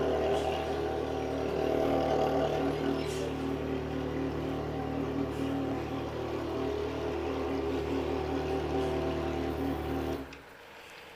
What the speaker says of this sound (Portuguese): Olha o guincho entrando.